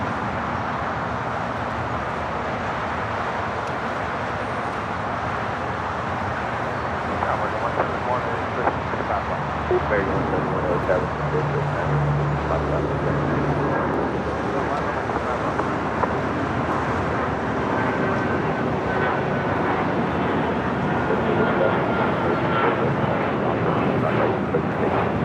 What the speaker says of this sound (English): that Delta A350 heading to Atlanta heading to 25 right here on the south side